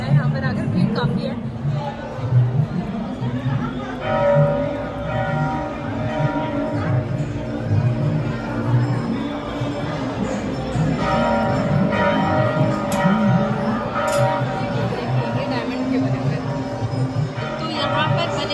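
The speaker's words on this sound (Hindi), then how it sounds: "भीड़ काफी है" A dense crowd fills the Khatu Shyam temple in Delhi with constant overlapping chatter and babble, light bell rings cutting through now and then, while a nearby voice talks over the steady hubbub.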